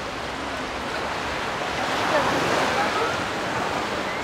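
Black Sea surf washes the shore at Anapa's central beach, making a steady broadband wash that swells a little midway, with wind noise on the microphone and no clear talk.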